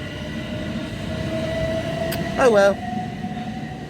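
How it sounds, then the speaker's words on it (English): A train rumbles past close by at Etchingham station on the Hastings line in England, with a steady mechanical drone and a brief high squeal midway; a person mutters something briefly. "That's the train I would have got."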